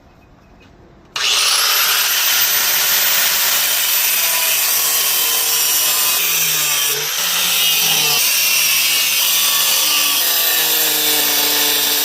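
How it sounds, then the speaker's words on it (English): An abrasive cutoff wheel spins up with a rising whine, then grinds steadily through the small threaded nipples on the firewall of a 1991 Honda CRX Si, a loud continuous screech with slight shifts as each cut bites. "let's first get started with the cutoff wheel and get rid of those little threaded nipples that are on the firewall"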